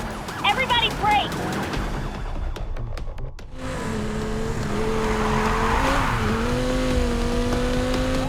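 Cars braking hard in Need for Speed Heat: a loud engine roar gives way to a sustained tire squeal and skid that holds for several seconds, preceded by game dialogue.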